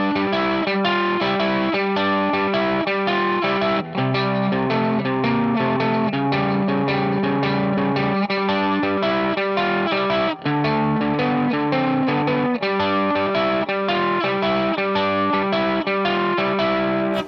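Guitar playing a song's post-chorus, a steady rhythmic strummed part with a processed, slightly distorted chorus-effect tone, continuous and fairly loud throughout.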